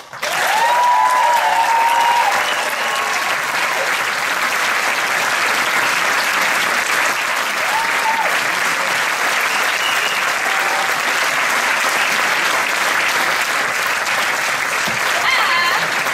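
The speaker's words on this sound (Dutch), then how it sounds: "Maar dan kun je nog een goed applaus geven" Sustained audience applause at the finale of an Addams Family stage production, honoring the director; steady, loud clapping fills the whole stretch with no break.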